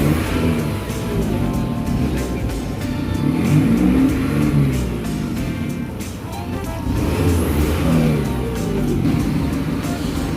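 An Isuzu D-Max 1.9 diesel engine runs loud and close, its revs swelling and easing repeatedly while the exhaust pipe is being cleaned, with someone speaking over it at times.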